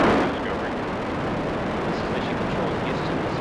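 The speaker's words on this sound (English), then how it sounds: "Booster ignition and the final liftoff of Discovery" Space Shuttle Discovery lifting off on its final launch, booster ignition giving a massive continuous roar and low rumble that stays loud and unbroken, with an announcer's voice under the noise.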